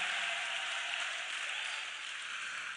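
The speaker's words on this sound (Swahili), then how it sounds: "Pigie Jehova makofi mengi." A church congregation claps during an evening service, producing a dense, steady wash of applause that holds at an even level throughout.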